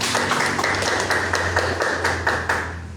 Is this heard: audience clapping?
yes